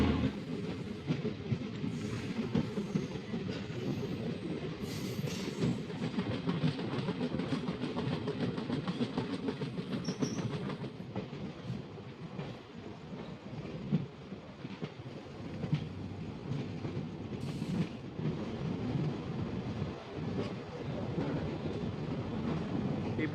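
A passenger train rolls along the Murkongselek to Dibrugarh line in northeast India, a continuous rumbling drone with rhythmic clickety-clack of wheels over rail joints, heard from inside the carriage at moderate level for over twenty seconds.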